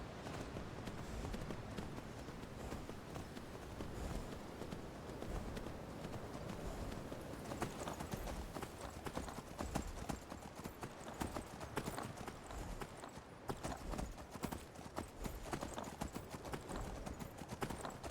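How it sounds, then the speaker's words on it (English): Horse hooves clip-clop steadily in the video game Skyrim, a continuous fast, close rhythm of hoofbeats running for the whole stretch with no talking. "Brace yourself, steed. I am going to mount you."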